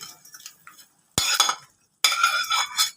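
Koftas dropped into a pan of curry, giving two short bursts of wet splashing and sizzling with a brief utensil clink between them, close by.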